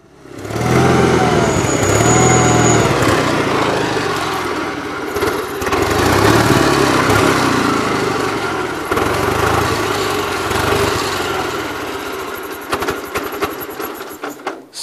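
A Gravely 8163-T garden tractor engine runs loud and close for the whole stretch, a rough steady drone that wavers slightly with a carburetor fault, while faint music plays behind it.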